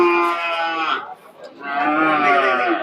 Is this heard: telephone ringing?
no